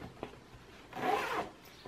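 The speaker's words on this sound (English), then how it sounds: "You have to zip them up." A zipper runs once along a fabric storage organizer bag, a brief, soft rasp up close after a faint click, in a quiet room.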